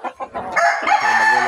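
A rooster crows loudly and close by on a small provincial farm, with a few short clucks leading into one long drawn-out crow.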